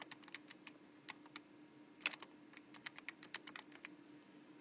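Keys on a computer keyboard are tapped in quick irregular clusters while numbers are entered, close and quiet over a steady low hum.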